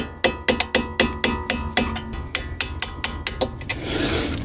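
A hammer taps a punch against a pin on a Subaru WRX STI Brembo front brake caliper, about sixteen sharp metallic strikes in a steady rhythm, close and loud, ending in a short rustle.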